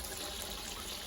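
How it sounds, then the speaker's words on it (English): Water pours steadily into a garden carrot bed, a close, continuous splashing rush that fills the whole moment at an even level. "Pour the water in there, get some in it, and there we go."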